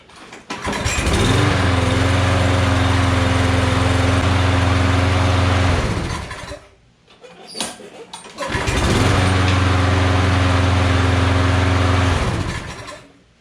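A push lawn mower engine runs steadily and loud after a carburetor fix, cutting out briefly around the middle before restarting and droning on again.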